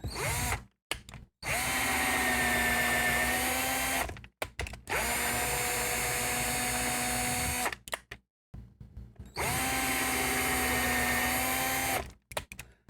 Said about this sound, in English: now let's go ahead and put some threads in it